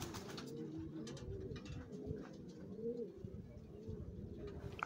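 Sport pigeons coo in a loft, soft low rolling coos overlapping continuously with faint rustles and a few brief chirps, quiet and close, with no talk.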